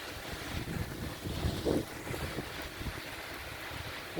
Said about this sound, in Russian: Со стороны запада дует ветер. Сильный ветер.